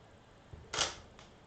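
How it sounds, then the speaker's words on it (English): A telescope camera's shutter clicks during deep sky imaging, one sharp mechanical snap with a faint lighter click after it, close and quiet against a low steady hiss. "Oh, there goes the shutter."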